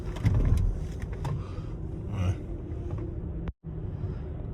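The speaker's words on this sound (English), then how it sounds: "this Ferrari guy is driving around the bag too" A Ferrari car moves past at close range in traffic, a brief engine and tyre rush that swells and fades over a few seconds amid ambient road noise.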